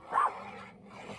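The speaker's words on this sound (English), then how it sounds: "She's got to get the last bark in." Cassie the dog gives a short burst of barking, one loud bark near the start followed by quieter lingering yips and whimpering in a domestic setting.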